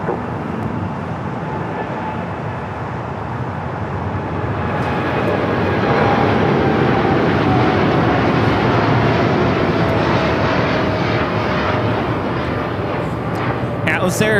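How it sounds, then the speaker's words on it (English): An Atlas Air Boeing 747-8 freighter takes off at LAX with a loud, steady engine roar that swells after the first few seconds into a strong broadband thrust. The roar holds to the end, with faint background activity around it. "Atlas Air 563 taking off to Zaragoza on the 747-8 freighter."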